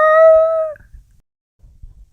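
A person imitates a lion's roar with a single loud, sustained, tonal howling call that cuts off after under a second, followed by faint low rumbles and near silence.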